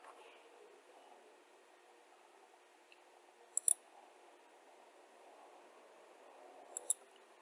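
Two pairs of quick, sharp mouse clicks, faint and close, a few seconds apart over a quiet hiss, while installing a VS Code extension, with no talking.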